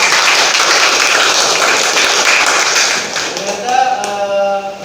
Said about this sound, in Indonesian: Oke, tepuk tangan untuk Cupe.